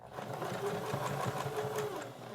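A sewing machine stitching fabric for a beginner card deck holder, running steadily and close with a continuous rapid whirring hum throughout.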